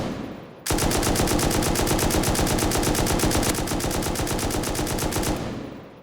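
An M249 machine gun in the video game Rust fires one long, loud full-auto burst of rapid evenly spaced shots that lasts about five seconds and then trails off in a short echo.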